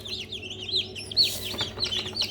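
Newly hatched chicks peep continuously in a rapid, overlapping chorus of thin high-pitched chirps, close by and steady, with a brief rustle of handling partway through.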